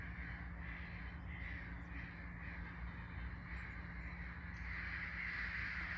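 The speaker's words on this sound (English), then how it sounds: "wow, the crows are really coming with a message" Crows caw outdoors, a series of harsh, fairly distant calls repeating over steady background noise with no talking.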